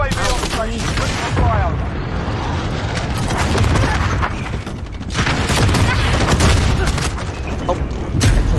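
Dense, loud gunfire rattles on in bursts during a Modern Warfare battle, with a friendly VTOL aircraft on overwatch adding a continuous heavy roar, and voices talk over the din.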